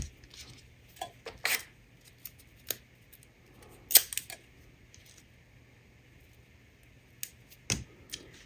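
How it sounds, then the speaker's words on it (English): Scissors make a few scattered snips and cuts while trimming both sides of a paper bow for a handmade double gatefold card, crisp short bursts over a quiet tabletop with no talking. "And I'm just going to trim the two sides."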